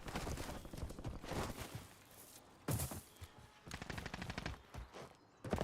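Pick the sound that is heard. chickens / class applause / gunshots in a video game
gunshots in a video game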